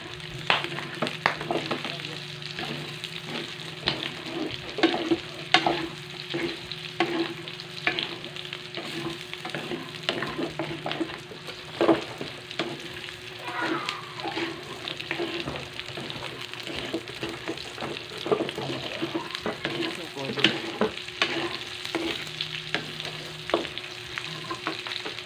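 Pork adobo cooked with Sprite is stirred in a hot pan, giving a steady close sizzle with frequent rhythmic scrapes and taps of the spatula throughout.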